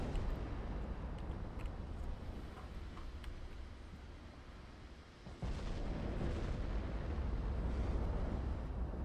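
Massive 18-inch naval shells firing and bursting in the battleship game Ultimate Admiral: Dreadnoughts, a dense rumbling roar of distant explosions and gunfire that dips briefly and then surges back louder, with no speech.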